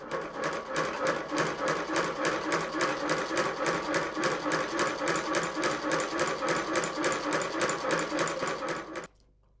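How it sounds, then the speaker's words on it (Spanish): An old but working sewing machine stitches leather reinforcement at the heel of a handmade boot, a fast, even mechanical clatter held for about nine seconds, close up, before it stops abruptly. "nuestro amigo Emilio lo fija en la antigua, pero todavía activa máquina de coser"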